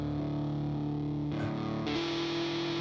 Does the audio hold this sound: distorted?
yes